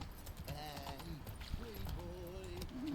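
Roach the horse's hooves clop along in The Witcher 3, a steady galloping rhythm under a voice and game dialogue, with music-like tones running through the scene.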